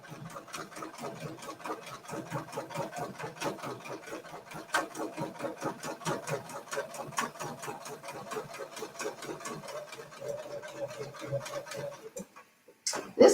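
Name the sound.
sewing machine stitching a quilting pattern along a template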